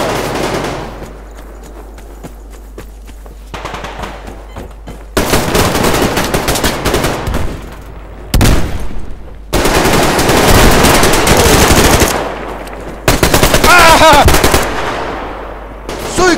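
Bursts of automatic gunfire in the online shooter Survarium, loud rapid rattling volleys of several seconds each separated by quieter gaps with distant shots.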